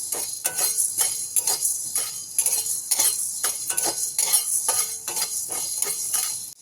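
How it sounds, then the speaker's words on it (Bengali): Two spoonfuls of black peppercorns dry-roasting in a kadai, stirred briskly: a quick, regular series of dry scraping and rattling strokes, close and fairly loud, over a faint hiss. "পেপার চিকেনটা বানানোর জন্য আমি প্রথমে গোলমরিচটা ভেজে নিচ্ছি"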